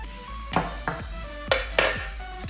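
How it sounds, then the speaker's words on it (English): Metal utensil clinking against a bowl while yeast is mixed into milk and water, four or five sharp ringing taps spaced irregularly over a steady low hum, close and fairly loud, no voices. "I'm going to put the yeast straight into that milk and water solution and give that a good mix"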